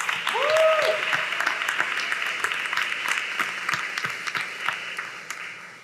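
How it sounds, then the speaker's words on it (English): Room applause at a school board meeting honoring 25-year employees, a steady, moderately loud crowd clap that holds throughout, with a brief tonal chirp near the start. "let's give all of our 25-year honorees a big round of applause."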